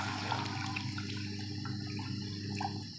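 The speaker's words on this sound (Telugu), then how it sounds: "దీనిలో వాటర్ పోసుకోవాలి" Water is poured into a pot while cooking mutton curry, a steady, close gush of liquid running continuously for about three seconds with no speech.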